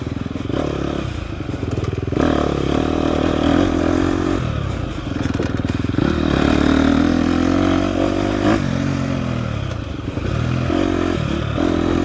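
A 2024 KTM 250 XCF dirt bike engine drones and revs while riding off-road on a Texas trail, with close, loud continuous engine noise, pitch shifts as the throttle changes, and clattering, scraping bumps from the terrain.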